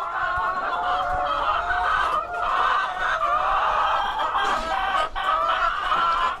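Chickens and fowl cluck steadily in a dense, close, continuous chorus on a small Filipino poultry farm, with no voices.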